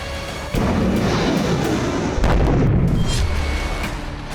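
Missile strikes and explosions as Houthi forces fire several missiles at a French navy frigate, a sudden loud broadband blast followed by sustained roaring rumble and a second heavy burst, no voices.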